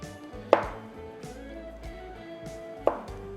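A knife slicing salami on a cutting board for a charcuterie spread, two crisp knocks of the blade hitting the board about two seconds apart over quiet, faintly humming room sound, with no speech.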